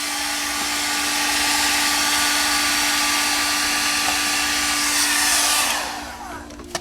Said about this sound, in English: you should always use a little heat pulling the tape up, and it can never hurt